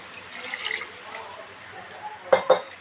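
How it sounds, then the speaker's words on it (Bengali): Hot water pours into a pan of fish curry with a gurgling liquid splash, followed by two sharp bursts of hissing and bubbling near the end, close by. "গরম জলটা দিয়ে দিলাম"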